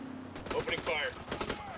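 Gunfire in the tactical shooter Ghost Recon Wildlands: a few brief bursts of shots mixed with in-game voices over a steady background.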